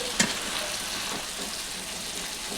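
Spice paste of garlic, tomato, ground spices and salt frying in oil in a pan for a Bengali tilapia fish curry: a steady, close sizzle throughout, with a brief clink near the start.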